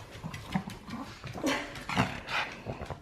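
A Shih Tzu whimpering and whining close by, uneven soft cries and yips with short bursts of panting, without talking.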